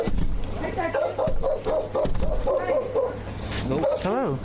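A Rottweiler yips, barks and whimpers in short repeated bursts close by, with high whining cries toward the end, while people talk over it.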